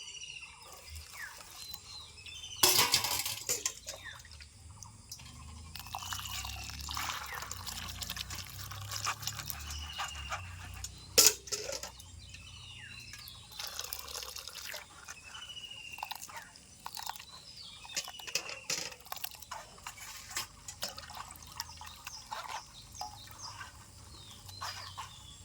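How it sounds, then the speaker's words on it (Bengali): Small chang fish fry being rinsed by hand in water, with steady splashing, dripping and sloshing close by, a couple of sharper knocks against the container, and no talking. "এখন আমি মাছগুলিকে ভালো করে ধুয়ে নেব।"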